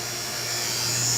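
Steady electric hum of a vacuum pump evacuating an HVAC system after a Goodman compressor change-out, a continuous mechanical drone with a faint high whine, holding even and close throughout with no talk.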